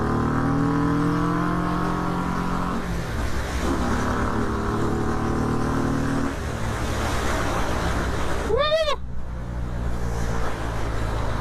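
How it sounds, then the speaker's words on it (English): A Harley-Davidson FXDR 114 motorcycle engine held on its rev limiter, a loud steady roar that pulses as the limiter cuts in, with a sharp rising rev near the end, close by and without talk. "On a rev limiter."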